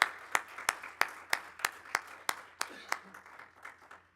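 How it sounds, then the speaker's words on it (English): A small congregation's round of applause at a Unity church Advent service, heard as sparse, evenly spaced claps from a few people, fairly faint and thinning out toward the end. "let's give them a great round of applause"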